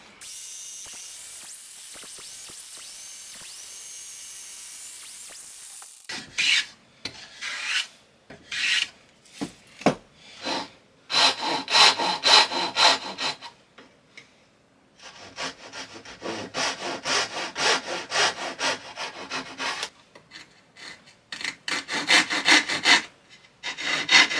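Hand saw cutting a wooden tenon for a toolbox, heard as bursts of rhythmic rasping strokes, close and loud, separated by short pauses, with no talking.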